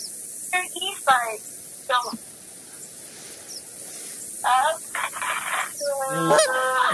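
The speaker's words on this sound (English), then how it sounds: "I heard geese now." Several geese honk in short, separate bursts in theHunter, some calls single and some in quick overlapping clusters, over a steady high hiss of ambience.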